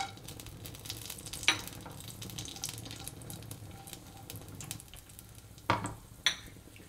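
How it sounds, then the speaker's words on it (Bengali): Whole garam masala spices drop into hot oil in a kadai while masala prawns are cooked Bengali style. A steady, moderate sizzle runs throughout, broken by a few sharp clinks of a utensil against the pan. "এবার তেলটা গরম হয়ে গেছে, আমি এবার গোটা গরম মশলাটা ফোড়ন দেব।"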